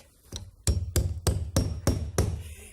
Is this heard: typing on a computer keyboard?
no